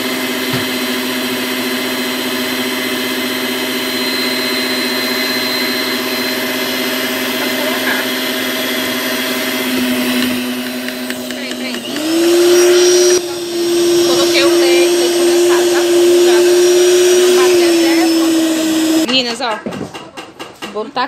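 An electric mixer beats a chilled condensed-milk cake filling until firm, giving a steady whining motor hum that rises in pitch partway through and then cuts off near the end.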